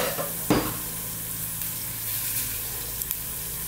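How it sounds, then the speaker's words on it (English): Spices sizzle in hot oil in a pan for a raw banana masala curry. The frying gives a steady crackling hiss, broken by an occasional louder stir or scrape near the start and light clinks later. "So let's just cook these in this oil."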